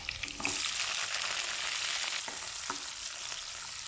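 Garlic and onions frying in a pan for chicken afritada, a steady close sizzle that starts loud and eases slightly, with a couple of faint stirring clicks and no talking.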